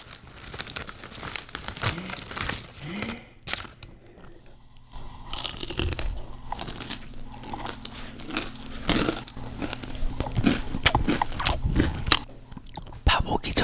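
A person bites and chews food during a meal in a cafe setting, with crunchy bites and wet chewing sounds close to the microphone, broken by quiet pauses.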